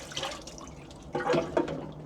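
Water trickling and splashing into the tubes of a Grail bike frame during an acid treatment, a quiet liquid wash that swells into two louder gurgling bursts near the end, with no talk.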